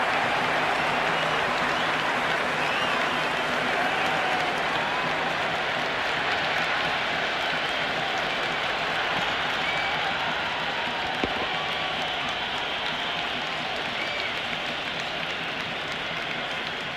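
Steady, dense applause and cheering from a stadium crowd in a Cricket 26 video game after the ball is hit for six, holding at an even loudness throughout.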